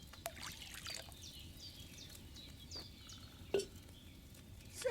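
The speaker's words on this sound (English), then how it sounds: "So, what did you pour in there? Wine, of course." Wine is poured into a cauldron in the medieval game Kingdom Come Deliverance 2, a soft continuous trickle and splash over faint ambient background, with a small clunk near the end.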